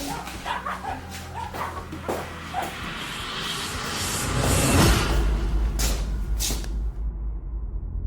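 A dog gives a short bark and soft whimpers amid busy mixed game audio, with a louder swoosh in the middle before the sound cuts off near the end.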